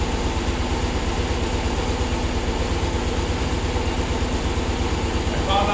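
A 1996 BMW R1100RT motorcycle engine idles steadily nearby, a loud, even low-pitched pulsing throb that continues without change for several seconds.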